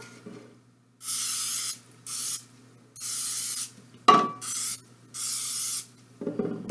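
Short hissing bursts of cooking oil spray onto a dark baking tin, five or so in an uneven rhythm, close by, with a faint metallic clink partway through.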